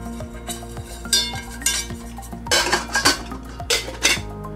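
A small pan tipping and rattling on a lightweight butane camping stove, several loud metallic clatters and clinks in uneven bursts at close range, with no talk.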